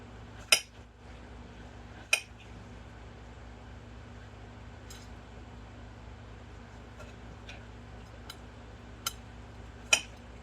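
A kitchen knife cuts a vegetable lengthwise on a board, giving a handful of sharp, isolated taps spaced a second or more apart over a quiet room hum.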